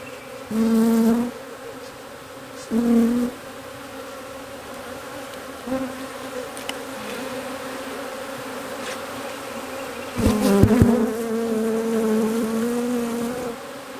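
Honey bees buzz around an Apimaye hive being split, a steady droning hum with louder close passes as individual bees fly near, the swarm sound continuing throughout.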